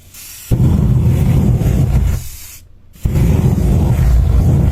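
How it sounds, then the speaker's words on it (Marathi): An aerosol spray can lit with a matchstick to make a flame against bedbugs gives a loud, rough, roaring hiss that bursts on abruptly, dips, cuts out briefly, then roars back at full strength. "स्प्रे मारायचा माचीसवर"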